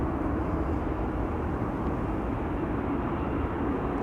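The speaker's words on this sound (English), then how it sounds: "Austrian arriving from Vienna, flight 313. That's an A320." An Austrian Airlines A320 arriving from Vienna on runway 27 at Amsterdam Schiphol, a steady broadband jet rumble with no distinct peaks, heard from a distance.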